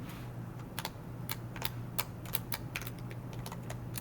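Someone types code on a computer keyboard with irregular, crisp key clicks scattered over a low steady hum, close up, in quick bursts and pauses, with no talk.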